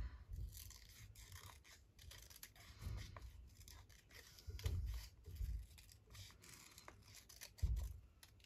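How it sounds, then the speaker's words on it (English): Scissors cutting a paper butterfly out of a sheet, heard as quiet, close snips and rustling paper in an uneven rhythm. "So let's cut this butterfly out."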